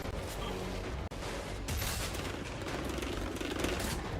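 Rapid gunfire rattles in sustained bursts during a firefight in the video game Outriders, loud and dense, broken by a brief gap before the shooting resumes.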